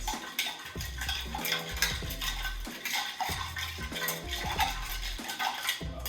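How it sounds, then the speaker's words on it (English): Metal spoon stirring a tequila Old Fashioned cocktail, a steady run of clinks and light scraping against glass and ice with a repeating circular rhythm, close up and fairly quiet, over faint background hum. "we got a regular spoon. You're gonna stir for 30 rotations"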